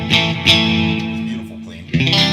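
An electric guitar, a Stratocaster, rings out through an overdrive pedal with a clean tone: two picked chord strikes sustain and decay, then a fresh strum comes in near the end, loud and up close.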